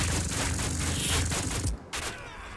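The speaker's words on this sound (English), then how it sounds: "Return fire from RMG squad." Machine gun return fire from a squad in the World War 2 strategy game Headquarters rattles in dense, loud bursts amid battle noise, breaking off briefly before another shot.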